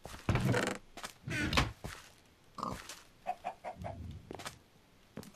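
Chickens cluck in the video game Minecraft, short bursts and a series of quick clucks, fairly faint, with a pig-like grunt mixed in and no talking.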